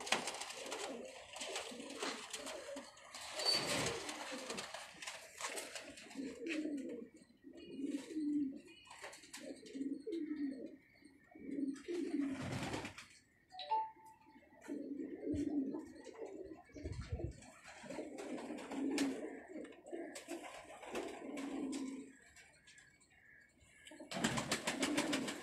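Pigeons of a fine fancy breed, kept by a Karachi hobbyist, give soft repeated cooing calls in low rolling phrases, fairly close, with a few sharper noises and faint background sounds between.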